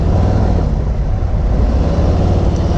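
A 2018 Harley-Davidson Street Glide touring motorcycle being ridden, its loud steady engine drone and low rumble dominating throughout with wind noise mixed in.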